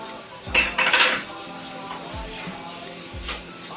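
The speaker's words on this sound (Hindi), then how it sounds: "इसको ऐसे चलाते रहेंगे कि इसमें कोई भी लम्स ना आए।" Sooji barfi being stirred in a kadhai: a spoon scrapes and clinks against the metal pan in a few distinct strokes, close and clear, with no voices.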